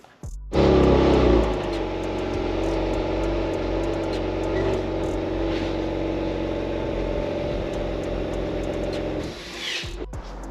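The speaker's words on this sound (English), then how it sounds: "let me pull the car forward so you can get a little more view" A Genesis G70 fitted with upgraded staggered exhaust tips rumbles steadily as it pulls forward, a close, continuous low engine drone after a brief louder start, fading near the end.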